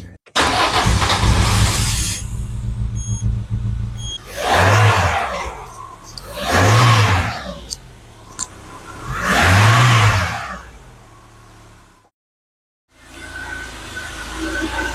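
A Peugeot 206 16V petrol engine runs after being restarted, rising in three distinct revving swells over a steady idle, then cuts out briefly before resuming, close and loud with no talking.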